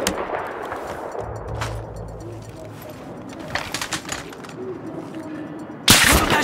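Gunfire in the Battlefield 3 military shooter, with scattered sharp shots over a dense, rumbling battlefield bed, a low engine-like drone early on and a loud burst near the end, with voices talking underneath.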